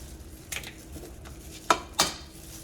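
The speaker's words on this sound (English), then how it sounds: "So then I'm going to crack 2 eggs just straight in there." Two eggs cracked into a bowl of meatball mixture, heard as a few sharp, close taps and cracks, with two distinct knocks near the end in a quiet kitchen.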